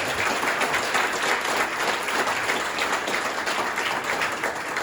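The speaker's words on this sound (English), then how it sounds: "So give yourselves a round of applause." Guests at a religious affairs specialist gala, about two hundred people, applaud themselves in a broad, steady round of clapping that carries on at moderate level for several seconds.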